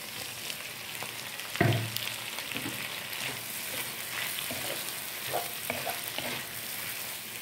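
Shrimp sizzle and fry in a pan while being stirred, a steady quiet crackle punctuated by a sharp clank of the utensil early on and scattered scraping taps afterward, with no talk.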